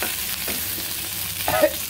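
Food fries in a small amount of oil, giving a close, steady sizzle with scraping and stirring noises as the pieces are turned to brown.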